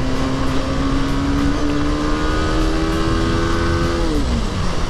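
TVS Apache RR310 motorcycle engine accelerating hard, a loud, close rising whine that climbs steadily in pitch before dropping at a gear change near the end, no voices.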